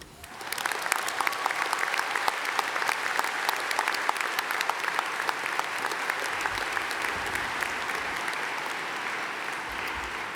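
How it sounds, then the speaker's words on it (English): Sustained, loud applause from a graduation ceremony crowd for the name reader, dense clapping holding steady for about ten seconds and easing slightly toward the end. "Please join me in a round of applause for our esteemed name reader"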